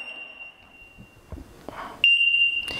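A fryer timer emits a high electronic beep, first as a fading tone and then a louder steady beep near the end, amid faint handling noises.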